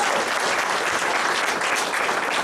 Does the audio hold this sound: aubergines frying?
no